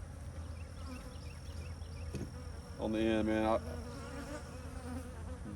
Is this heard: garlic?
no